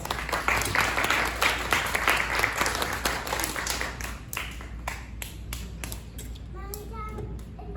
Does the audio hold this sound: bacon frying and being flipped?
no